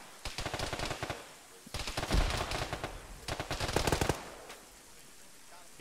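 Bursts of automatic gunfire in the military shooter game Arma during a ShackTac session, three long loud volleys of rapid shots with brief pauses between them.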